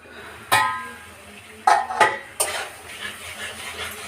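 Spice masala for a fish curry is stir-fried over high flame: a soft sizzle under several distinct scraping and clanking strokes of a spatula against the pan, close by.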